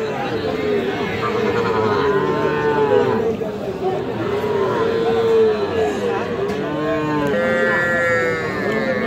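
Young bull calf of about three months mooing repeatedly at a busy cattle market, loud and close, with market chatter and crowd babble running underneath the calls.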